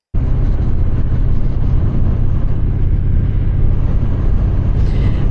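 Steady loud rumble of a 2025 Triumph Speed Twin 1200 motorcycle on the move, a continuous engine drone mixed with road and wind noise, with no voices over it.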